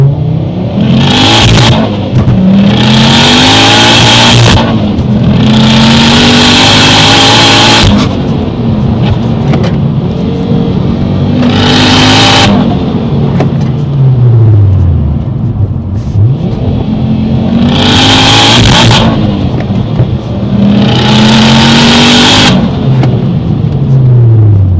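A car with a screamer pipe exhaust revs hard several times, loud, raw bursts of rising and falling engine roar with rasping crackle, close up and continuous, no voices.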